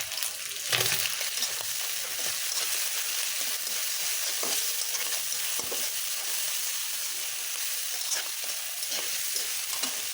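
Frozen tomato paste sizzles and fries in a pan with prawns and yardlong beans, a steady loud hiss with occasional stirring scrapes throughout, no voices.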